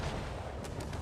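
Naval gunfire in the World of Warships video game: a brief, dense rumble of heavy cannon blasts, with short crackling bursts layered over a constant low roar.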